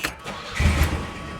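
A 1983 Chevrolet Chevette with an exhaust leak cranks briefly and catches, its engine rumbling up loud and close for about a second before settling into a rough idle.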